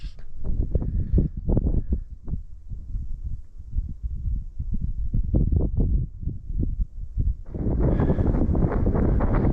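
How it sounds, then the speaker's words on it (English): Gusty wind buffets a microphone on a hike through golden grassland overlooking Glacial Lakes State Park, Minnesota, producing loud, deep rumbling thumps in uneven bursts that swell into a continuous heavy roar near the end. "I hope that wind isn't too much of a bother."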